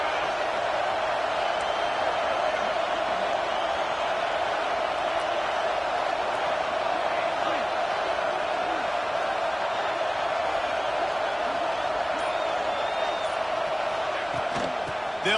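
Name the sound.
crowd cheering for the defense at a football game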